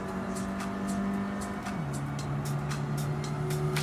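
A slower car driving a track in Gran Turismo 7, its engine holding a steady drone that drops in pitch at a gear change, with faint ticking noises over the top.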